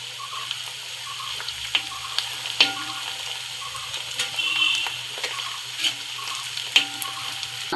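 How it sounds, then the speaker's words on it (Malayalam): Curry leaves drop into hot oil in a pan and sizzle steadily with scattered sharp crackles and pops, fairly quiet and close, with no talking. "കറിവേപ്പില ഇടാം."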